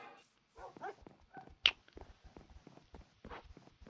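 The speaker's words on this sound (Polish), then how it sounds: "Pieski!" Dogs in the Minecraft video game make soft footsteps, with a sharp yelp-like bark in the middle and scattered quieter pattering sounds that come and go across the clip.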